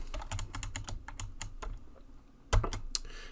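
Rapid clicking on a computer keyboard while web page code is written, close and crisp in irregular bursts, then a short pause and a heavier thump of keys near the end, with no talking.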